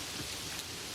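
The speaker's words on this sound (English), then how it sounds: "the rain landing on it sounds immediate, each drop arriving and giving its particular small sound before it dissolves" Rain lands on a camper van roof in a stormy Icelandic setting, a dense, steady close patter of drops filling the whole second with no voices.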